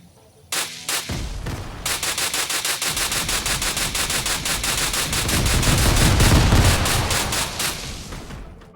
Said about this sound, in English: This weapon shoots explosives that deal no damage to the surrounding environment.